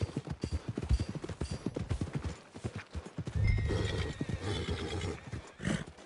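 Horses whinny and their hooves clip-clop near the stables in Red Dead Redemption 2, with rhythmic hoofbeats throughout and a clear neigh midway, all fairly close and loud.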